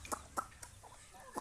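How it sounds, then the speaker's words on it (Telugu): A country rooster among free-range desi chickens gives a few short, close clucks in an uneven rhythm, each brief and separated by quiet gaps. "అదొకటే నాకు పుంజు ఇప్పుడు"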